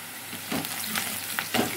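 Onions and meat fry to a golden brown in a pan, giving a crackling sizzle with spatula scrapes and stirring clatter breaking through now and then, close and moderately quiet.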